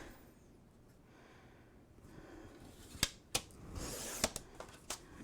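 Scissors cutting a paper strip for a handmade album box: faint rustling, then several sharp snips spaced about a second apart, close and quiet, with no talk.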